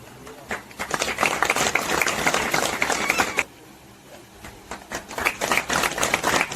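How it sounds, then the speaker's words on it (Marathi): Hearty applause from a village audience at a Satyanarayan Mahapuja temple celebration, dense clapping in two bursts with a brief lull between, fairly loud and near. "जोरदार टाळ्या."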